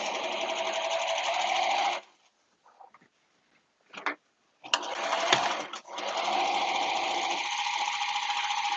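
A serger sewing machine stitching a caftan whirs in rapid, steady bursts, stopping for a couple of seconds with a few soft clicks before running again at a constant buzzing pace.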